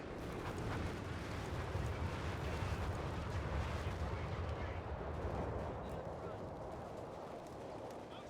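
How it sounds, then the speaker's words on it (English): Dense rumbling barrage of mortar fire in the war strategy game Graviteam Tactics: Mius-Front, low booms blending into a continuous roar, fairly faint overall, with a voice talking over it. "They're just spamming mortars at this point."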